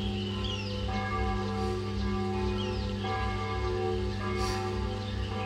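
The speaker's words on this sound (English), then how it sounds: "Ah, fucking church bells." Church bells ring steadily through rainy outdoor ambience, their tones sustained and overlapping at moderate distance over a continuous low hum.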